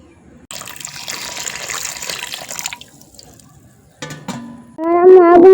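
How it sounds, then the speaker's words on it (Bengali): A little water is poured over cut potatoes in a pot, a close trickling pour for a few seconds, then a pause and a louder burst of splashing and gurgling water. "অল্প একটু পানি দিয়ে নিলাম।"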